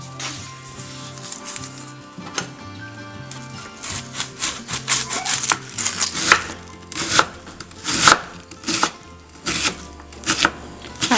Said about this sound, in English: we're going to cut up 1 large onion